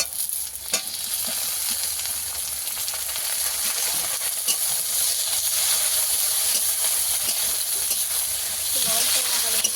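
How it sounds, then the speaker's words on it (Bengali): Potatoes and tomatoes fry in a pan with onion, giving a steady, close sizzle and hiss while occasional stirring scrapes through, loud and continuous throughout with no talking. "টমেটো আর আলু একসঙ্গে ভেজে নেবো।"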